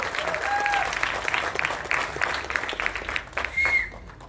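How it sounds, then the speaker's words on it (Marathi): A crowd at a Marathi film trailer launch event claps loudly and continuously, a thick roar of hands with a couple of brief whistles cutting through and a slight swell near the end. "आपण सगळ्यांनी एकदा जोरदार टाळ्या वाजवूया ते झी स्टुडिओसाठी"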